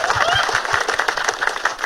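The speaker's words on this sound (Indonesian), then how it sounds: "Tepuk tangan dulu buat Chelsea." Audience applause for Chelsea at a JKT48 Team Dream graduation show, a close, busy patter of clapping hands lasting the whole moment, with some voices mixed in.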